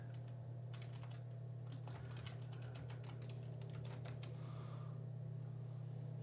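Quick bursts of keystrokes clatter on a computer keyboard, close and quiet, over a constant low electrical hum, then fade to near silence before a final few taps.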